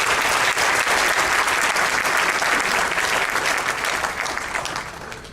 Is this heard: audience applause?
yes